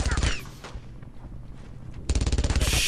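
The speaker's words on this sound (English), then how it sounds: "Oh, there's a fucking machine gun nest." A machine gun nest fires in the World War II shooter Brothers in Arms: Road to Hill 30, with loud rapid bursts of gunfire at the start and end and a quieter stretch of scattered shots and rumble in between.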